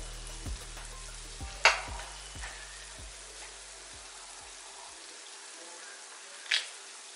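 Unniyappam fry in hot oil with a steady soft sizzle, while a spoon turns them and gives a couple of sharp metallic taps against the pan.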